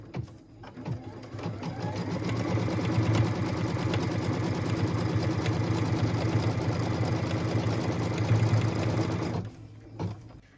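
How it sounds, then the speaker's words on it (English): A sewing machine stitches the tack down line for a quilt block piece, a steady, close, rapid mechanical whir that ramps up, runs evenly for several seconds, then stops with a few soft clicks. "What we're stitching now is the tack down line for piece number 9."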